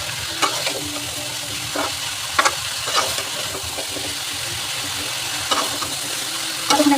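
Spices stirred in a frying pan, with a steady sizzle under repeated scraping strokes from a spoon against the pan, close up and with no talking.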